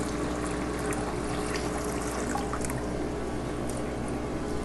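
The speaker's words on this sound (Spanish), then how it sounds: "les echo agüita a los peces y ahí vamos echándoles poco a poco agüita" Water is poured a little at a time into a container holding captive-bred clownfish being acclimated. A steady, continuous trickling and splashing stays close and moderately quiet, with no talk.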